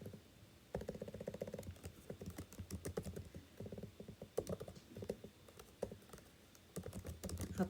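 Keys clatter on a computer keyboard in rapid bursts of typing, with short pauses between runs, close and fairly quiet with no talk.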